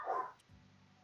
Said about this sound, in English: Their barks transcend the plains.